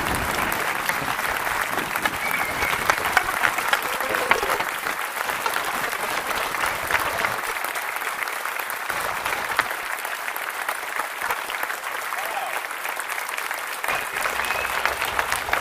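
A large crowd at a live event in Wilmot applauds warmly for a speaker's welcome, a dense, steady wash of clapping that holds at full strength for about fifteen seconds with no voices over it.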